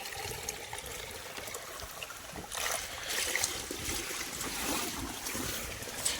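Irrigation water flows into a field bed with a soft, continuous trickling and gurgling, faint and fairly close, swelling slightly midway and holding steady without any talk.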